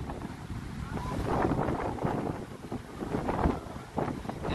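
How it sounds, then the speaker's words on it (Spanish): Heavy rainstorm with gusting wind in Boca del Río, a dense roaring wash of rain that swells and fades in waves and buffets the microphone, with no talking. "lloviendo. Y fuerte."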